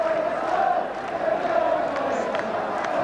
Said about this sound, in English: It has a loud and large crowd in it.